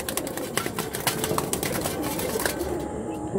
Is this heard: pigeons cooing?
yes